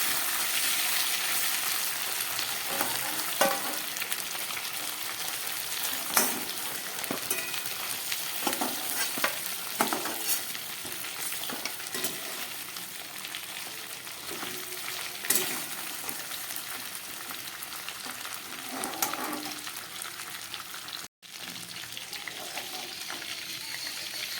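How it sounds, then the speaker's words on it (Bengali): Rita fish heads frying in oil in a pan, with a continuous soft sizzle and occasional stirring scrapes and clinks over a long stretch; no speech. "মাছের মাথাগুলো ভাজা হয়ে গেছে,"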